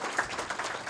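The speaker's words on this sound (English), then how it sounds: "You may applaud." Brief scattered clapping from an audience at a Salesforce ribbon cutting ceremony, with soft, uneven claps at middle distance and no talking.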